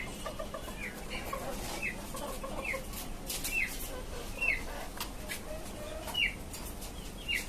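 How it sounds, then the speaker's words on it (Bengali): Caged chickens on a five-storey rooftop farm, including a farm rooster, a local hen and a tiger hen, cluck softly at intervals with short chirpy calls over a steady outdoor hum. "এইখানে আছে একটা ফার্মি মোরগ আর একটা দেশি মুরগি"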